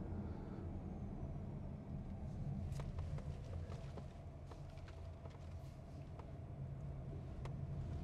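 A VinFast compact city SUV driving uphill, heard from inside as a steady low, even cabin rumble of engine and road noise with a few faint clicks and taps, and no voices.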